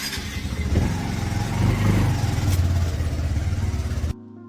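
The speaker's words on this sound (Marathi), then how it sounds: "आता इथून गाडीला स्टार्टर मारतोय आपण." A motorbike on a city street is started and pulls away, the engine rising through a short burst of throttle with a low, steady hum before cutting off abruptly near the end.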